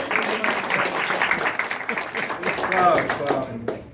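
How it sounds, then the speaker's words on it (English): An audience gives a round of applause at a live event, steady clapping from a room full of people lasting several seconds, with voices audible over it. "Let's give him a round of applause, please."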